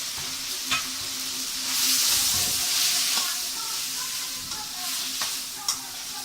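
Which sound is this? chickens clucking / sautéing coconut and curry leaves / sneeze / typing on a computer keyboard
sautéing coconut and curry leaves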